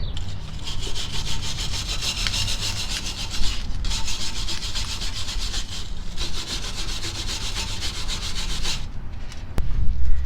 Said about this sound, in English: After wire brushing it, we're definitely going to do about 2 rounds of wire brush.